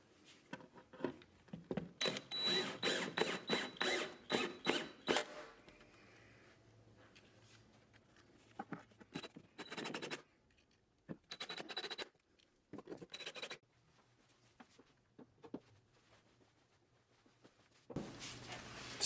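Screws driven into the back of a wooden floating shelf, heard as bursts of scratchy, rasping drilling and scraping that start and stop several times, close by, with quieter gaps between.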